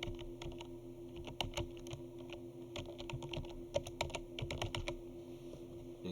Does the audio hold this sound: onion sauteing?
no